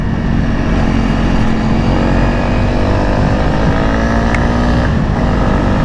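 A Honda CRF 300 motorcycle engine pulls steadily uphill in sixth gear at about 60 km/h, a loud continuous drone with steady harmonics and no talk over it.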